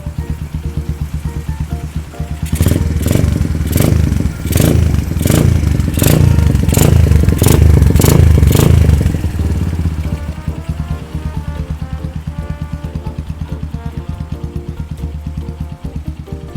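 A Stallion Centaur 250 Max motorcycle engine idles roughly, then revs hard in a burst of loud, throbbing pulses before settling back to a steady, uneven idle, as if about to stall.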